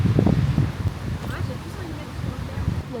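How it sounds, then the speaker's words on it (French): Strong wind buffeting the microphone on a beach of a deserted island in the Tuamotu, a steady low rumble that swells and eases throughout, loud and close, with a voice talking briefly at the start. "Tellement de vent"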